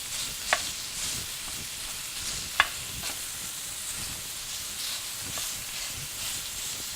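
Lean sausage fries in a Dutch oven on an electric stove, giving a steady soft sizzle with a few sharp scraping clicks from stirring.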